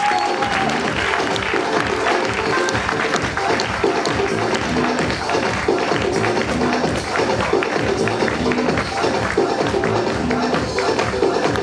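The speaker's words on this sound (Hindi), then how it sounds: "हम लोग जोरदार तालियों से स्वागत करेंगे लकी नई डी का, जोरदार तालियों से।" A seminar audience in Delhi breaks into vigorous, continuous applause, with crowded overlapping claps filling the room at a steady level throughout.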